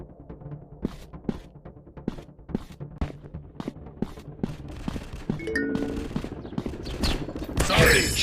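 Gunfire from the Counter Terrorist FPS 3D shooting game rings out as repeated sharp shots, single and in quick bursts, growing into heavier mixed effects and a loud final blast near the end.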